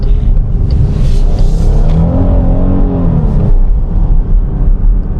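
A 2022 Chrysler Grand Caravan minivan engine revs hard under acceleration, a loud sustained drone that climbs in pitch and then eases, heard from inside the cabin with no talk.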